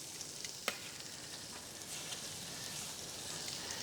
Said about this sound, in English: I'm going to put the pork in and let's get cooking here. Let's sear it up.